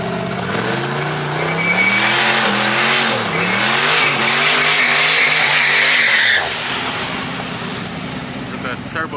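A turbocharged Trans Am street racing at night roars loudly and close, revving up through rising engine pitch with tire squeal, then cuts off sharply and fades into quieter background noise.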